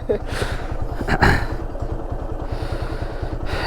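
A struggling motorcycle engine labours on the way to a hill tribal village, its low, steady thumping pulse close and loud, with voices talking over it.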